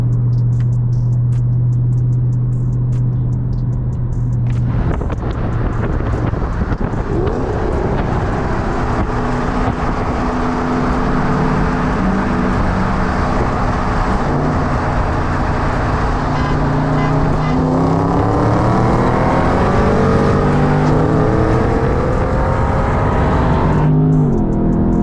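A Dodge Charger 392 Scat Pack engine revs hard while racing a six-speed manual Shelby GT500 at a JDM car meet, a loud sustained roar with rising gear sweeps, shift breaks and steady road noise.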